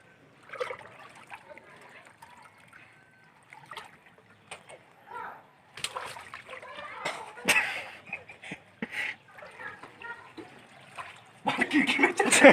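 Flood water in Diphu sloshing and splashing as people wade through it, irregular bursts of splashing between quieter stretches, with people talking over it and a louder churn near the end.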